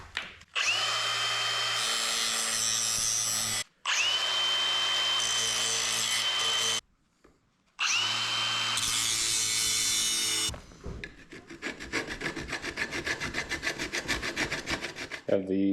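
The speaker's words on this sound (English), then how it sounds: "I'm gonna try to sand down the outside and the inside" A power sander grinds paint off a Porsche Boxster seat's metal frame in three long steady bursts with short pauses, a harsh close whine, followed by rougher scraping and rubbing passes.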